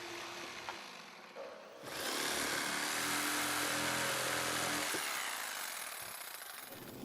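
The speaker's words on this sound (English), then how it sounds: "Finally, I'll use a reciprocating saw to finish the cuts." A reciprocating saw cuts through a wooden deck stair stringer: after a quiet start, a loud, steady buzzing rasp runs for about five seconds, then stops abruptly.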